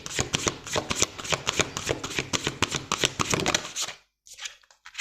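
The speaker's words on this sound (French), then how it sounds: "Allez, on va prendre une petite carte de manifestation." Oracle cards for manifestation are riffle-shuffled up close in a fast, dense run of crisp flutters for about four seconds, then a brief pause and a few softer card flicks.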